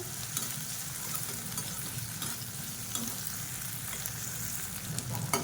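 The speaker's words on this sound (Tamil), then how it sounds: "சுண்டைக்காய் எண்ணெயில் நல்லா வதக்கிட்டோம்னா கசப்பு தெரியாது" Turkey berries (sundakkai) sautéing in oil, a continuous close sizzle and crackle with occasional stirring scrapes, steady in level and with no talking.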